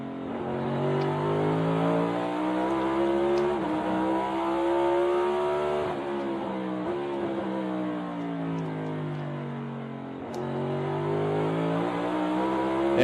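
NASCAR Cup Series race cars lapping at Martinsville, engines rising and falling in pitch as they accelerate off the corners, a loud continuous roar of several cars with no talking.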